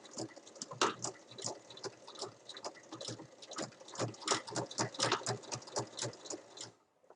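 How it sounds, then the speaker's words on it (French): A sewing machine runs a straight seam on a dog collar, a close, rapid mechanical stitching patter in uneven bursts that speed up and slow down, then stops near the end. "la dernière piqûre, c'est une piqûre droite qui va séparer l'anneau du mousqueton"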